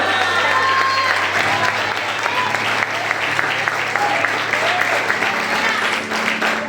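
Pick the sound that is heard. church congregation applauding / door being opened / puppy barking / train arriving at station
church congregation applauding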